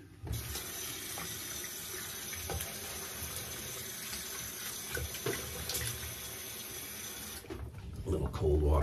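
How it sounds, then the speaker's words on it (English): Cold tap water runs steadily into a sink for a rinse during a wet shave, a constant hiss with a few clinks, ending with a louder splash. "A little cold water rinse."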